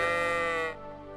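A single sheep bleats in the video game Kingdom Come Deliverance 2, a short wavering call heard close and alone.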